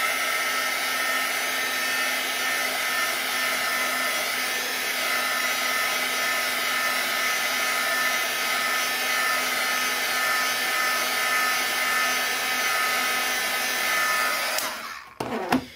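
A hair dryer blows steadily and close over a small 4 x 6 watercolor flower painting, a continuous whooshing whine that cuts off abruptly near the end.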